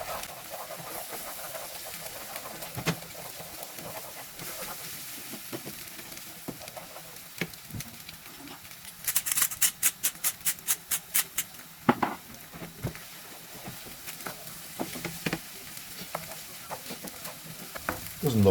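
Four eggs are scrambled in a frying pan, a spatula scraping and stirring in quick irregular strokes over a faint sizzle, with a rapid run of sharp taps midway; fairly quiet and close.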